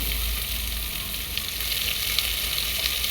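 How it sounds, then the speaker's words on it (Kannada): Onion, green chillies and dried fenugreek leaves frying in a pan for chicken biryani, a loud steady sizzle with a few crisp crackles and light stirring, close and uninterrupted, no voices. "ಇದಿಷ್ಟನ್ನು ಚೆನ್ನಾಗಿ ಫ್ರೈ ಮಾಡ್ಕೋಬೇಕು"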